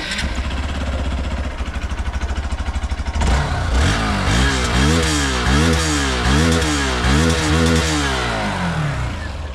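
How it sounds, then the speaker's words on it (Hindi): A Hero Xpulse 200 4V BS6 motorcycle, a 2025 model, idles with a steady close thump, then is revved repeatedly in quick blips. Its single-cylinder exhaust rises and falls in pitch in a regular rhythm, loud and near, with no talking. "सुनाते हैं इसका एग्जॉस्ट नोट, जल्दी जल्दी आपको एग्जॉस्ट सुनाते हैं।"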